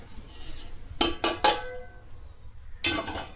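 A large plate handled while food is served onto it for a meal, giving a quick cluster of three sharp ceramic clinks, then one more clatter after a pause, close by with no talk.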